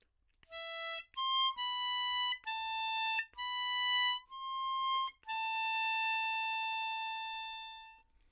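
A low key harmonica plays the beginner line of the Jean de Florette theme: a slow run of sustained, clear single notes with short breaks between them, ending on one long held note, loud and alone with no talk.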